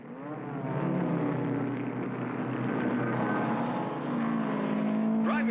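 Cartoon race cars roar steadily as the car acrobatic team drives onto the track before a race, a continuous loud engine drone with shifting pitch and a quick rising whine near the end.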